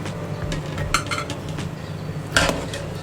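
Yakhni pulao is dished out into a serving dish, with a few sharp clinks of a utensil against the pot or plate over a low kitchen background.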